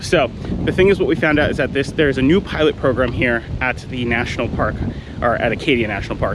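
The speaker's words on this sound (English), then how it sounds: "It is a very windy day" Strong wind buffets the microphone outdoors at Acadia National Park in Maine, a low, gusty rumble running constantly beneath a person's continuous close talking.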